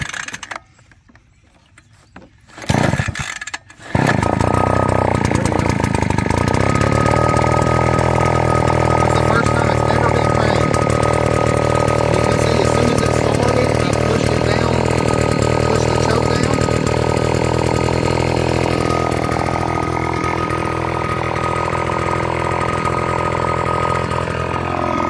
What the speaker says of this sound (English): the engine feels really responsive